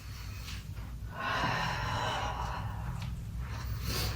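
Slow, audible breathing during a morning somatic movement practice, with soft airy inhales and exhales, one long breath drawn out through the middle, close and fairly quiet, with no talking.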